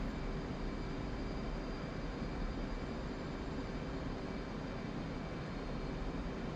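Steady, loud jet engine roar from an F/A-18C Hornet in the DCS flight simulator, a continuous broadband rush with faint tonal whine holding level throughout, no talk over it.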